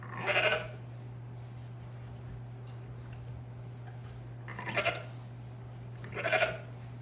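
A ewe bleats three times in a lambing barn, once at the start and twice near the end, over a steady low hum with quiet pauses between calls.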